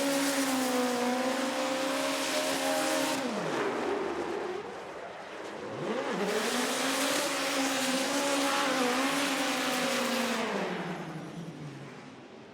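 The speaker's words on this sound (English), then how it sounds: "listen to this 4-cylinder turbocharged nitrous hatchback" A turbocharged nitrous four-cylinder hatchback drift car revs hard and loud at a Formula DRIFT event in St. Louis, holding a high buzzing pitch, dipping briefly mid-run, then screaming again before fading.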